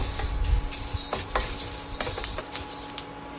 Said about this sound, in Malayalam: ഇപ്പം നന്നായിട്ട് മൂത്ത് ഇത് പൊട്ടാൻ തുടങ്ങിയിട്ടുണ്ട്